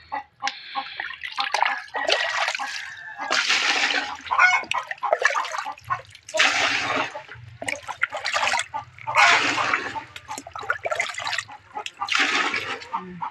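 Water is poured out in repeated gushes and splashes, loud and close, in uneven bursts with brief pauses between them.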